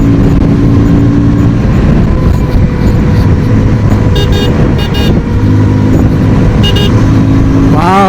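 A 2025 KTM Duke 160 motorcycle pulls away with a steady, loud engine drone close by, accompanied by traffic noise and brief horn-like toots near the end.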